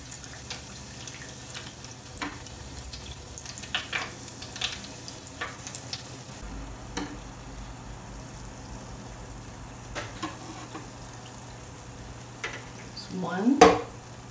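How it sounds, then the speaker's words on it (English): Danish pastries frying in oil, pressed under with a slotted spoon, a soft steady bubbling sizzle with scattered clicks and taps, then a louder clattering splash of utensil and oil near the end. "sometimes I use my slotted spoon to kind of hold them down and immerse them in the oil"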